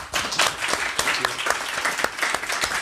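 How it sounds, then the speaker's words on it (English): Warm, dense applause from a college lecture audience for a speaker on the Catalan language, many hands clapping continuously at a full, even level with a few sharper claps and no talking. "Òscar definitely deserves another round of applause"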